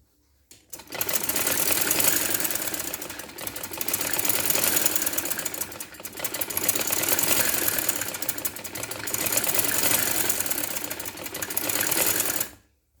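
A sewing machine double-stitches the neckline of a women's shirt, running in loud, close bursts of rapid mechanical clatter that pause briefly between runs.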